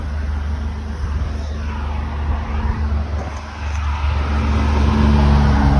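A heavy combine harvester engine idles and runs steadily, a loud continuous rumble with a slight rise in intensity toward the end, no talk.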